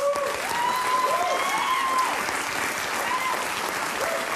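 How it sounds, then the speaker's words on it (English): A talk show studio audience claps in steady, sustained applause at moderate volume throughout, with a few faint voices mixed in. "They're clapping."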